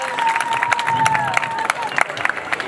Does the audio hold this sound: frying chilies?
no